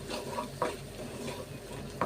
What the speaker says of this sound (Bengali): তেলের ভিতরে কষিয়ে নিতেছি